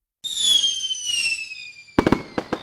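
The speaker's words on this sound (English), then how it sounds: "There's something so hopeful about watching fireworks on New Year's Eve, isn't there?" New Year's Eve fireworks: a rising whistle trails off, then a quick run of sharp, loud crackling bangs bursts nearby, with no voices.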